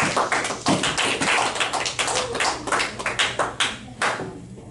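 A church congregation claps together during a Sunday service, a dense run of rapid hand claps and taps filling the room, steady and fairly loud from start to finish.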